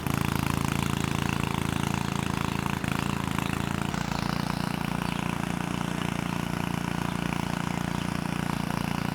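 A small gasoline engine runs at a steady idle while building a backyard privacy fence, a loud continuous buzzing drone with one short hitch partway through and no speech.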